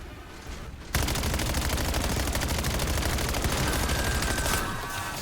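In Black Ops 7, a boss's shoulder pads take sustained rapid gunfire. After a quieter second, dense automatic shots roar continuously for several seconds and then ease off slightly at the end.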